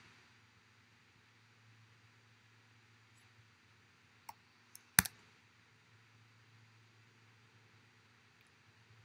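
A computer mouse clicks a few times in quick succession while sharing a document in Google Apps, sharp faint ticks near the middle over a quiet background hum.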